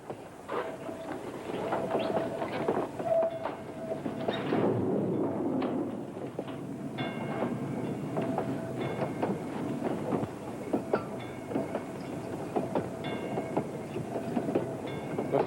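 A train runs along the rails toward a town, a steady rumble with rhythmic clicks and clacks, heard clearly with no talking.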